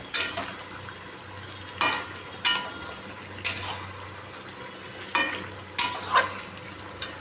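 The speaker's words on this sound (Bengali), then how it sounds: "চিকেনটা এখন ভালো করে কষাচ্ছি" Chicken being sautéed and stirred in a pan, with repeated sharp scraping strokes of a utensil every second or so over a steady background sizzle, close and fairly loud.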